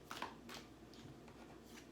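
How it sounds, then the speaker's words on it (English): Tarot cards being shuffled by hand, giving a few quiet papery riffles and soft slaps in short bursts against a hushed room. "I'm going to shuffle some"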